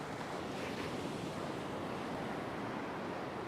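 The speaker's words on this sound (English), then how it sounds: "I've got to get out of here before these other waves hit." Big, wild ocean surf crashing and washing along a beach during a fishing session, a loud, continuous roar of breaking waves with wind buffeting the microphone throughout.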